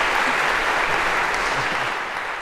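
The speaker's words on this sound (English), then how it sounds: "OK, and a round of applause for Spot as well." A lecture-hall audience applauds for a robot dog, dense and loud clapping that holds steady throughout and fades only slightly at the end.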